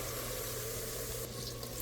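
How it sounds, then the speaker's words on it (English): Water poured into a pot of Jamaican curry chicken, a steady, fairly loud rushing splash that runs unbroken for the whole short moment. "Now that's her adding some water."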